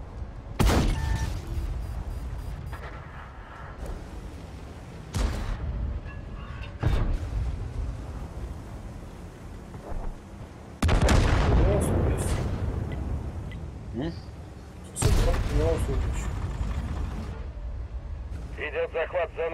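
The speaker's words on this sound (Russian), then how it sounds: "Скоро будет нанесен авиаудар." Airstrike explosions in World of Tanks' Frontline mode land as several heavy booming blasts spread across the stretch, each followed by a rumbling decay, with a voice talking over the battle.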